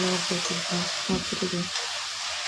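Ingredients for potato gobi fry in hot oil with a steady, close hiss, under intermittent tonal background music.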